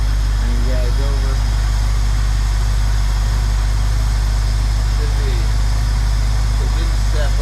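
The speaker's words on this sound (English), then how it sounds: "The idle didn't step up with the choke being partially on, but it's no big deal." A 1969 Ford Mustang engine that sat for 17 years idles with the choke partly on, a loud, steady low rumble close by, while a person talks over it.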